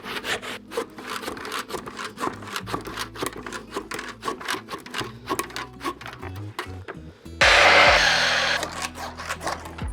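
Handsaw cutting wood while building a garden compost heap, a rapid rhythmic rasp of back-and-forth strokes close by, ending in a brief louder burst of hiss.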